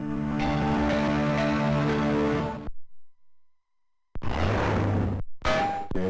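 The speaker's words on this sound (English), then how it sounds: "And here's what it sounds like from an actual Gamecom." Boot-up chime of an actual Tiger Game.com handheld console: a sustained tonal jingle with bright harmonics for about two and a half seconds, a short silence, then a second louder burst of tones and a brief closing note, with no voices.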